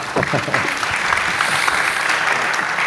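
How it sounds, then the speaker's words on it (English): Audience applause closes a panel talk on deep tech investing, a dense, steady roar of clapping from a sizable crowd that holds loud for the whole stretch, with faint voices mixed in. "Big applause, please."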